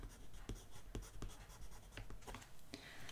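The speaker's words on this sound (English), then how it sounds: "And if you like a sketch, always sign it." Pencil signing a finished multicolored-pencil figure sketch, a few quick scratchy strokes and taps on paper, close and fairly quiet over light room noise.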